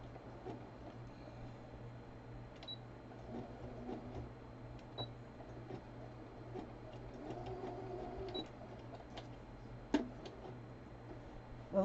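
A home sewing machine stitches quietly in short runs, a soft mechanical chatter with faint ticks and clicks over a low hum and no voices.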